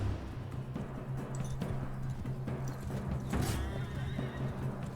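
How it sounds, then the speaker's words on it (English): A gallant horse in Mount and Blade 2 Bannerlord whinnies close by over steady clip-clopping hooves and dense battle noise, with a louder burst partway through and no voices. "And I got a freaking horse."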